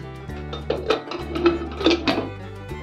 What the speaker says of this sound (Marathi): झाकण लावून घेऊया